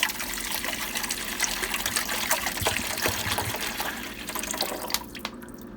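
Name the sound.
water poured from bottle into Igloo ice maker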